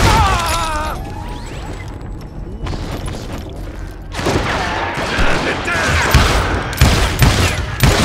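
Gunfire and explosions in the Western shooter Call of Juarez: Gunslinger, with bursts of shots and heavy booms crowding together, loud and dense, especially in the second half, over game music and effects.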